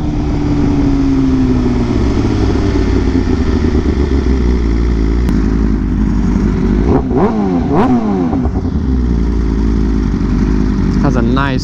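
A BMW M1000RR sport motorcycle with a full titanium SC exhaust runs close and loud at speed, the exhaust tone dropping then blipping through several sharp revs and gear changes amid steady wind noise.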